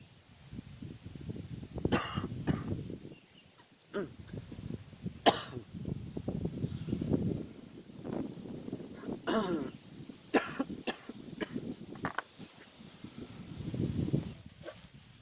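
Someone coughs and chokes in a run of harsh, repeated fits, the loudest bursts near the mic with brief gasping pauses between them, while cleaning the carburetor of a DR string trimmer.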